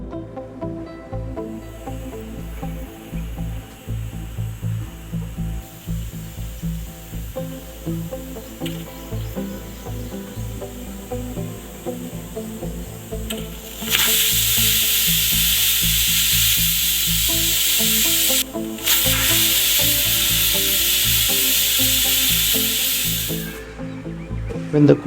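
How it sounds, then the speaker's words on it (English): A steady low bubbling simmer of rajma in a pressure cooker gives way to a loud, sustained hiss of steam venting, broken by one brief pause before it fades. "cap the pressure cooker and allow for 2 whistles"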